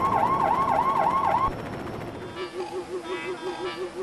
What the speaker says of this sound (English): And you could also hear, of course, the sirens activate,